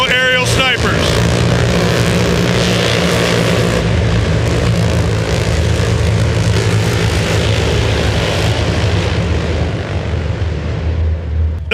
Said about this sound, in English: The MH-60 helicopters right there have those multinational aerial snipers.